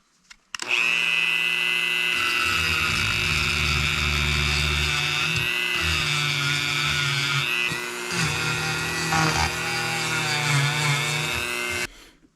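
A sandpaper wheel grinding the valves of a John Deere STX 38 engine, a loud continuous high-pitched whine at close range with steady motor hum, briefly dipping in pitch mid-run before stopping abruptly.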